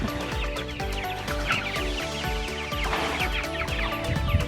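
A flock of chickens in a chicken tractor on grass, clucking and chattering together continuously, close by and fairly loud, with no talking.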